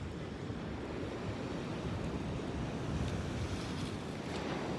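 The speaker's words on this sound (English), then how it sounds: "These waves are insane over here." Ocean waves crash onto the beach at Avon-by-the-Sea in a steady, full-bodied roar of surf with wind buffeting the microphone, and no voices.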